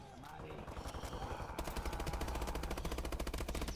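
Gunfire in the Call of Duty Advanced Warfare Exo Zombies video game: a brief lead-in gives way to a loud, steady burst of rapid automatic shots rattling on without a break.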